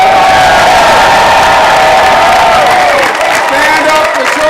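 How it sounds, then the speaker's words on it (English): A crowd at an LGBT Center event on ending the epidemic claps and cheers loudly and close, with whoops and shouted voices rising over dense applause that eases slightly near the end. "let's give him a round of applause"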